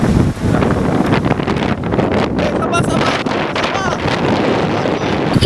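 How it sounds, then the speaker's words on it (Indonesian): Strong wind at sea near Pulau Mamutik off Kota Kinabalu roars and buffets the microphone in a constant, loud rush, with water and boat noise underneath and voices talking over it. "Angin kuat"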